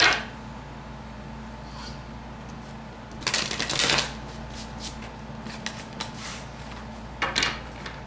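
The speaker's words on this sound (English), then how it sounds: "Okay, shuffle." Tarot cards being shuffled during a reading come through as two or three short, crisp riffling bursts over a quiet room hum, fairly close, with no talking.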